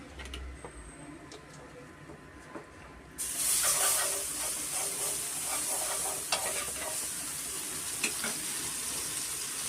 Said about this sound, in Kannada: ಸ್ವಲ್ಪ ಬೆಣ್ಣೆನಲ್ಲೇ ಸ್ವಲ್ಪ ನಾವು ಫ್ರೈ ಮಾಡ್ಕೊಬೇಕಾಗುತ್ತೆ